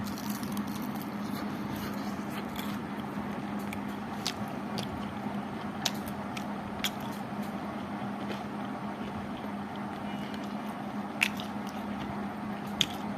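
Close chewing of a crispy Bangkok-style fried chicken leg piece: soft crunchy bites and moist squishing over a steady low background hum.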